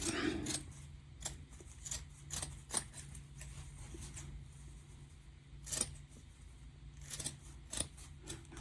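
Scissors snip material close to the edge during reassembly of a Heathkit IT-12, a series of sharp, close cuts at an irregular pace over a quiet room.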